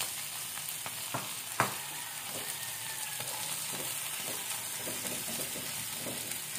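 Smoked tuna sizzles and fries steadily in a pan, making a continuous close crackle with a sharp tap or two of a utensil early on.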